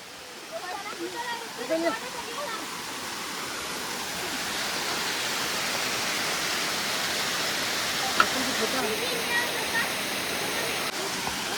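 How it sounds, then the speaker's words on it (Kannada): The Irpu waterfall in the Nagarahole forest area roars as a steady, broad rush of water, loud and continuous, with a faint voice briefly audible early on. "ಇದೆ ಇರ್ಪು ಫಾಲ್ಸು"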